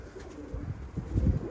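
Soft cooing of pigeons or doves, low and muffled, in a quiet space with no talking.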